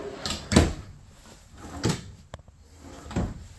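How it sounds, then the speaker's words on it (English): Storage drawers in a Heartland Elkridge 33BHS travel trailer being opened and closed, three separate quick knocking slides spaced evenly about a second and a half apart, close by and fairly quiet. "Drawers for storage."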